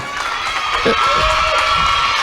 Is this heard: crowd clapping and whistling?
yes